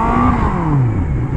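A Honda Hornet motorcycle engine revs loudly and close by, its droning pitch sliding steadily downward as it holds a continuous roar with no voices.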